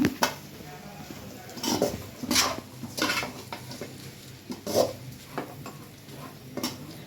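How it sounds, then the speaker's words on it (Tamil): Chopped chapati noodles are stirred in a pan at home, with a series of light scraping and clinking strokes of a utensil against the metal, spaced irregularly over a faint background hiss. "சப்பாத்தியை போட்டுட்டு இந்த மாதிரி கிளறி விட்டுக்கோங்க"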